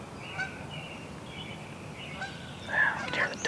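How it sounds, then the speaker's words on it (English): Several geese honk repeatedly as they fly low overhead near a lake by a cemetery, their calls growing louder toward the end over a soft, steady outdoor background. "sorry, those are geese. They're flying low."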